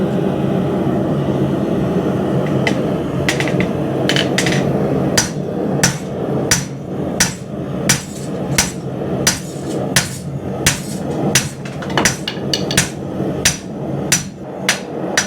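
A hammer strikes orange-hot steel on a hardy tool in a steady series of sharp ringing blows, loud and close, over a constant droning background hum.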